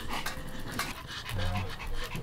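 A dog pants in quick, breathy, rhythmic huffs at close range, with a faint whimper and light background noise.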